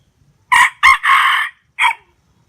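A yellow rooster crows nearby, loud and clear in a quiet setting: a rising call in three quick bursts followed by a short final note.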